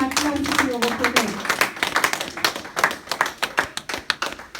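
An audience at a church conference claps and cheers in acclaim, with many sharp overlapping claps and voices calling out, starting under a voice and building into steady rhythmic applause.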